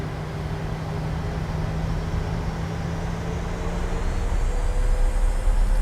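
Airliner jet engines in Microsoft Flight Simulator spooling up to 40% thrust on a Transavia departure from Innsbruck, a steady broadband roar with a faint rising whine that grows slightly louder toward the end, no talk.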